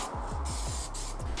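A steady, close hiss of an aerosol can spraying Plasti Dip onto Subaru wheels, continuous for the whole moment with slight pulsing in its strength.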